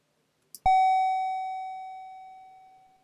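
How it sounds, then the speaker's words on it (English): A single electronic doorbell chime from the retro computer game The Castles of Dr. Creep, struck once and ringing out as a clear sustained tone that fades slowly over a few seconds, heard alone. "Ring the doorbell to open the door"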